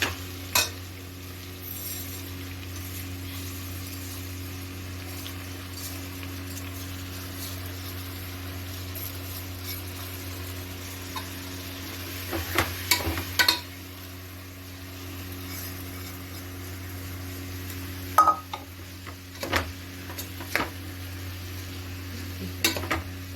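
Rice is stirred and fried in a pan for chicken donne biryani, with a low steady sizzle under scattered scraping clatters of a spoon against the pan.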